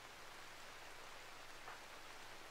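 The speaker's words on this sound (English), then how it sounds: "Oh, it's raining." Rain in the RimWorld colony game hisses as a steady, even wash of broadband noise with a faint low hum beneath, quiet and continuous with no talk.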